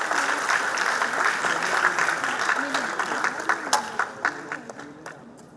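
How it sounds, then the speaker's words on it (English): An alumni meet audience applauds to welcome a Bharatanatyam dancer, with a dense wash of clapping that thins into scattered claps as it dies down. "Let's welcome her with a huge round of applause."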